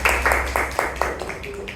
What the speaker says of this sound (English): Just a round of applause for her.